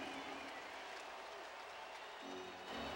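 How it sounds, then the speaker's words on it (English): Crowd noise fills a hockey arena at a 1998 Stanley Cup Final game between the Red Wings and the Capitals, a steady wash of applause and cheering heard at a distance after a goalie save. "Olaf Kolzig starting to get the crowd behind him"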